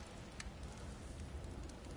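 Storm rain in the video game God of War Ragnarok, a faint, even wash of rainfall hissing steadily throughout with no talking over it.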